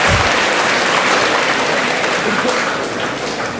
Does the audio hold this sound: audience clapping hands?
yes